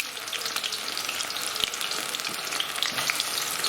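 Onion bhaji frying in hot oil, a close, loud, steady crackling sizzle with small pops throughout.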